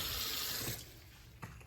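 Tap water runs steadily into a kitchen basin filled with water and white vinegar for rinsing greens, a continuous close splash that eases slightly, with a brief clunk near the end.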